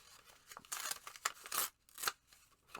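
Paper being torn by hand in several quick rips, close and fairly quiet, each burst short with brief pauses between, no voices.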